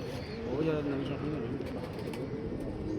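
Pigeons coo in low, steady, overlapping murmurs at close range, with a voice talking over them throughout.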